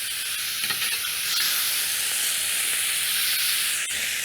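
Tuna fish searing on a grill, a steady broad sizzle and hiss that holds evenly throughout with no talking.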